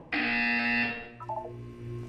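A buzzer in the video game Portal 2 sounds one loud, sustained electronic tone that cuts off after about a second, followed by a softer, short descending chime.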